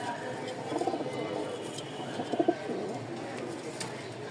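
White Giribaz pigeons in a cage, soft cooing calls rising briefly around the middle over a low room hum, faint and close, with no clear talk.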